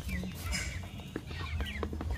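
Chickens on a small farm clucking close by, a busy patch of short overlapping clucks and chirps over a low background murmur.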